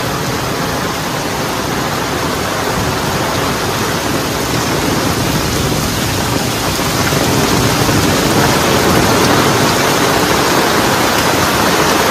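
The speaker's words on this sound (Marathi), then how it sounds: "हा विजांचा आवाज ऐकू शकता तुम्ही. खूप जोरात पाऊस पडतो आहे" Heavy rain pours down in a dense, unbroken roar beside flooded fields near Sondheghar Dam, with low thunder rumbling beneath the constant hiss.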